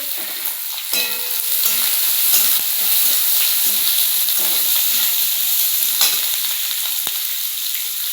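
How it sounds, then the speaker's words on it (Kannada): Curry leaves and onion frying in hot oil, a constant close sizzle with bursts of crackling and occasional stirring scrapes, no talk over it. "ಈಗ ಒಂದು ಕಡಿಪತ್ತ ಹಾಕ್ತೀನಿ."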